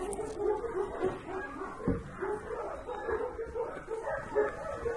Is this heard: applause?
no